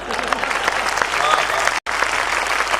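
Audience at a Hindi kavi sammelan in Seawoods applauds with dense, continuous clapping, briefly cut by a split-second dropout, with a voice faintly audible beneath.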